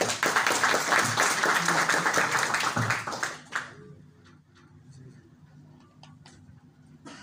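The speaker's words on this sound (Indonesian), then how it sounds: "Kita beri aplaus untuk kita semua." Audience at an Indonesian political rally applauding, dense rapid clapping for about three and a half seconds that stops abruptly, leaving quiet murmurs and a few scattered claps.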